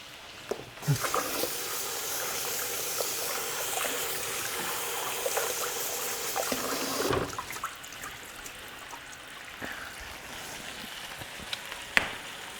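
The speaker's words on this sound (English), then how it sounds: "Use a quick little rinse." Green onions rinsed under a running kitchen tap, a steady rush of water that stops abruptly partway through, followed by quieter drips and light handling noises.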